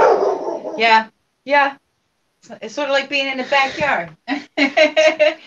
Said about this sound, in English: That's my dog you're hearing.